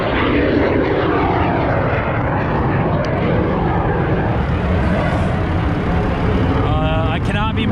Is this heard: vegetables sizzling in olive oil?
no